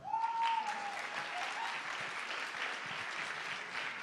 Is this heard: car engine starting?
no